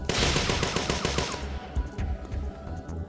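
Turrets in the game Parasite Eve II fire a rapid burst of automatic shots for about a second and a half, then trail off into scattered quieter thuds.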